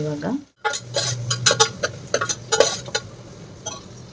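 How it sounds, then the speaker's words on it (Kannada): Masala rice ingredients are stirred and fried in a pan, with close, clinking scrapes of a spoon against metal coming in irregular bursts over a soft background sizzle; a voice speaks briefly at the start. "ಸೊ ಇದೆಲ್ಲನೂ ಚೆನ್ನಾಗಿ ಫ್ರೈ ಮಾಡ್ಕೋಬೇಕು."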